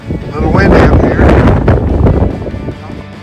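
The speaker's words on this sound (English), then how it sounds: "A little windy up here." Strong wind gusting at a rocky mountaintop on the Arizona Trail, buffeting the microphone in a loud, continuous rush that swells and eases over a few seconds, with a voice speaking over it.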